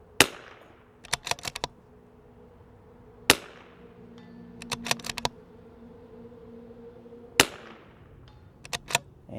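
Rifle shots and steel plate hits at an outdoor range, fired with a right-to-left wind. Several sharp, loud transient cracks are spaced irregularly, some followed by quick clustered rings or impacts, with no talking.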